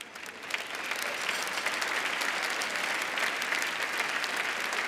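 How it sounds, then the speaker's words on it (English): Sustained audience applause fills an awards ceremony hall, a dense steady clapping from a large crowd that holds evenly throughout, with no voices over it. "That is a very lovely round of applause"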